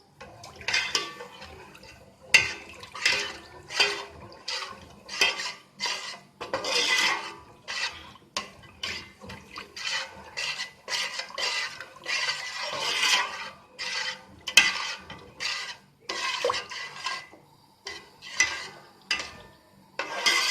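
Andrasay milk mixture being stirred in a pan over a high flame, with repeated scraping and rasping strokes of a spoon against the pan in an irregular rhythm, close and fairly loud, no talking.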